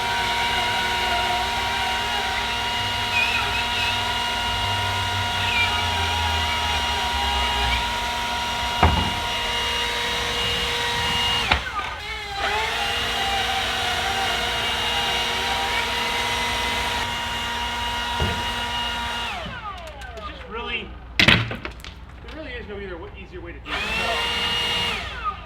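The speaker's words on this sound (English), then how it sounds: "We're gonna router out our windows" A power router cutting window openings through wall sheathing, giving a sustained high whine with harmonic tones that runs for long stretches, broken by brief pauses, knocks and bursts of cutting noise near the end.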